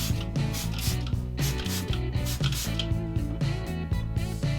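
An RC car tire being scrubbed with a toothbrush and Simple Green cleaner, heard as rapid, repeated close-up brushing and rubbing strokes with a scratchy texture and no talk.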